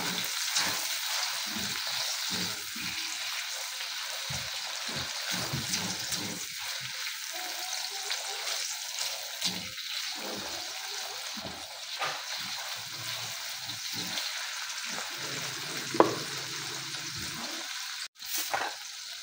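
Tomatoes sizzle and crackle in a hot frying pan while Filipino-style pork pochero is cooked, a loud continuous frying hiss with some stirring and scraping, and no talking.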